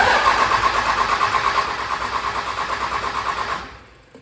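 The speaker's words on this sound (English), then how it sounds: "We're gonna crank the engine until there's a huge diesel mess starting." A Cummins 24-valve diesel engine cranks on its starter after head gasket work, a steady rhythmic churning for about three and a half seconds, close and loud, then winding down to stop without catching.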